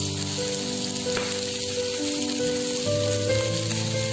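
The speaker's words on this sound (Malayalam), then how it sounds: "നല്ല പോലെ ഒരു പെയിൽ റെഡിഷ് ബ്രൗൺ കളർ ആവുന്ന വരെ നമ്മളൊന്ന് വഴറ്റി ഫ്രൈ ചെയ്തെടുക്കണം" Onions fry in coconut oil in a pan, giving a close, steady crackling sizzle that runs without a break, with faint stirring and a few soft tonal sounds in the background.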